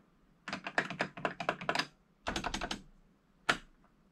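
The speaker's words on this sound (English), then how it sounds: "the keyboard works again" Keys clatter on an MSX Canon V-20 computer keyboard, a quick burst of close, rapid typing followed by a shorter second run and one final isolated keystroke, with no talk.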